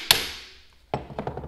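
A hammer striking truck suspension parts on a 3rd Gen Toyota 4Runner during a Bilstein 5100 lift install, one sharp ringing metallic hit, then a quick cluster of smaller taps, close and loud in a garage.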